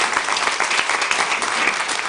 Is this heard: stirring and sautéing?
no